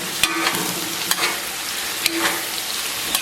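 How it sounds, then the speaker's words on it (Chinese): Minced lean pork stir-fried with scallion and ginger in a wok, a steady close sizzle broken by a few sharp scrapes and clacks of the spatula as the pieces are tossed. "然后给它反复煸炒一下"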